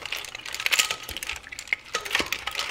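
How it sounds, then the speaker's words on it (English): A utensil stirs and tosses cold fish salad in a bowl, close and steady, with soft squelches and light clinks against the dish. "And you mix it, just like that."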